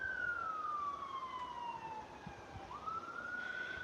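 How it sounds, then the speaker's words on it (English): A distant siren near Heathrow Airport wails, its pitch sliding slowly down and then rising again, over faint background hum. "Can hear sirens."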